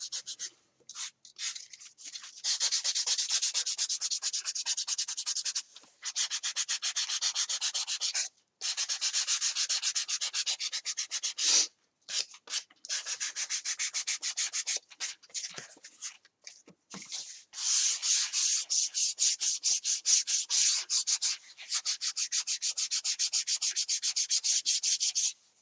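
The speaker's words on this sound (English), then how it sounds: "sandpaper takes the edge off a lot faster" Sandpaper rubs back and forth against a plastic toy pirate sword in long bursts of rapid, raspy strokes, close and fairly loud, separated by brief pauses.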